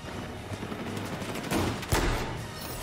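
A couple of sharp Battlefield 4 sniper gunshot bursts crack out over a low, noisy background, the second one briefly louder.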